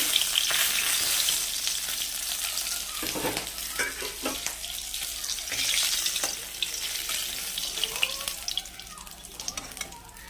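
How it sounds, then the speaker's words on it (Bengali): Bata fish sizzle as they fry in a pan, with a constant crackle and a few sharper knocks and clatters of handling, at a moderate level and fairly close. "মাছটা ভাজা হয়ে গেছে এবার তুলে নেবো একটা একটা করে"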